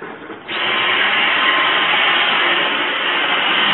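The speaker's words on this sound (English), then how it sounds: "He's just vacuuming" Household vacuum cleaner switching up to full power after a brief quieter start, then a loud, steady whine held close by with no talk.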